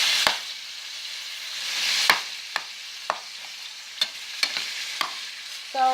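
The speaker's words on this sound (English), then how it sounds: "I just want to cook down the meat a little bit" Ground meat for Mexican macaroni and cheese cooking down in a pan, a soft steady sizzle broken by sharp scrapes and clacks of a utensil stirring at irregular intervals.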